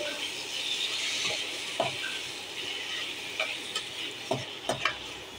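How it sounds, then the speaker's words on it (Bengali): Prawns are stirred through frying masala in a pan, a soft continuous sizzle under repeated scraping and tapping of the spoon, growing busier toward the end. "এইবার চিংড়ি মাছগুলো ভালো করে এই মশলাতে মাখিয়ে নেব"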